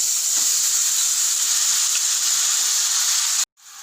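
Mushrooms drop into a hot pan of fried garlic for Tamil-style mushroom sukka, giving a loud, steady sizzling hiss that holds for several seconds before cutting off abruptly.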